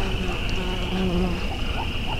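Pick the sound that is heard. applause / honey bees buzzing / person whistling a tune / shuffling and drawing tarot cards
honey bees buzzing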